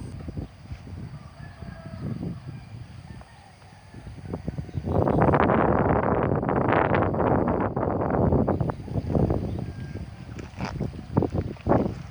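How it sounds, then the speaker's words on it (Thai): Strong wind sweeps across an area near a canal in the aftermath of Typhoon Molave, starting as a quiet rustle and then rising into a loud, roaring gust that lasts several seconds before easing into scattered buffets. "เริ่มมาอีกแล้วครับลมเริ่มแรง"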